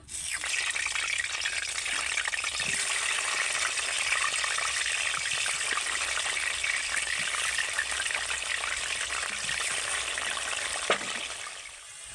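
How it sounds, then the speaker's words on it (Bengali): Saffron-coloured potatoes for chicken biryani fry in hot oil, a steady close hiss and bubbling sizzle running evenly throughout with a few faint clinks, no talk. "খুব সামান্য একটুখানি কিন্তু কেশর কালার দিলাম আলুগুলোকে এবার ভেজে নেব"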